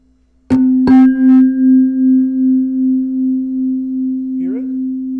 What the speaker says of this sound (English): let's see if we can hear beats with this. I've changed the two frequencies.